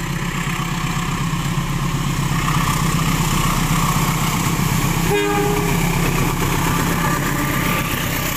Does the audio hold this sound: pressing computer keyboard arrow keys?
no